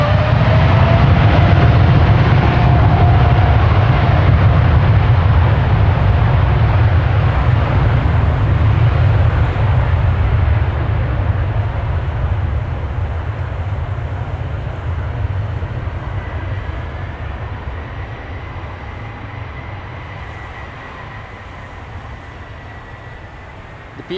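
A KLM passenger jet departing Amsterdam Schiphol roars loudly and steadily at first, a broad deep rumble that slowly fades as it climbs away, with no talking.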